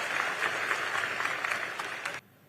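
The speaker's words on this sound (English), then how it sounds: "Give Liam a round of applause, folks, for being brave and asking a tough question." An audience applauds warmly for about two seconds at a political talk event, a dense even wash of clapping that cuts off abruptly.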